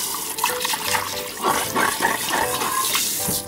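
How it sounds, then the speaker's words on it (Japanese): Kitchen tap running steadily into a sink while a freshly caught whiting is scaled, a continuous close splashing rush of water with faint scraping underneath and no talk. "で水を流しながらね、とりあえず鱗を取っていきます"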